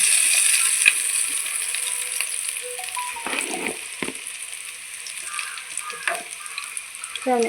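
Chapala fish frying in hot oil makes a constant high sizzle, broken by several close clinks and scrapes of a utensil through the middle and end, loud and with no talking.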